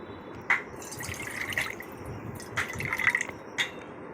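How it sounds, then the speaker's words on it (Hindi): Water is poured into a pot to make tulsi kadha, a herbal brew with spices and ginger, giving soft splashing with a few sharper drips and trickles, close and fairly quiet. "इस कटोरी से 2 कटोरी पानी ले लेंगे।"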